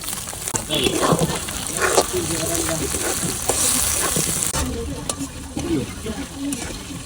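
Shrimp with chopped onion fry in a pan, a loud close sizzle and crackle with stirring scrapes and clatters, while a person talks over the cooking.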